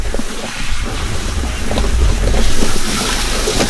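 Water runs through a chicken plucker barrel during home butchering, a loud, steady rushing and splashing close to the microphone that swells slightly midway, with no talking.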